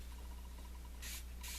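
A spray bottle of scented cleaner gives two short, close hissing bursts, onto a tissue to wipe ink off metal eyelets in jewelry making, with a quiet steady hum underneath.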